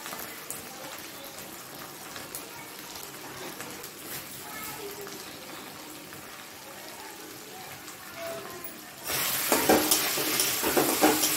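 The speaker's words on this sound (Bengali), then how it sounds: "এবারে মশলাটা আমি ভালো করে কষিয়ে নেব।" Spices with coriander and cumin powder being sautéed in a pan for a banana-flower kofta, a soft, steady sizzle with stirring that swells into a louder, fuller fry near the end.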